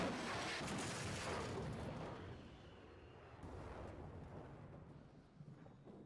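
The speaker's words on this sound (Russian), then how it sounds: "после чего слышен взрыв, и мимо пролетает падающий самолет" In The Forest video game, a big rumbling explosion opens the sound, and its roar gradually fades. A second rushing surge follows as a falling plane passes by, dense and noisy with no voices.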